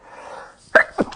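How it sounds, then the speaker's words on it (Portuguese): A single close sneeze: a short breathy intake and then a sharp burst, with a smaller second burst right after it. "Peraí que eu vou espirrar."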